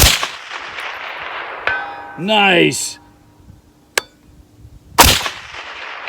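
A shot from an IWI Tavor 7 .308 bullpup rifle strikes a steel target at 400 with a single sharp metallic clang, followed by a second distant shot crack, with brief talk in between over outdoor background noise.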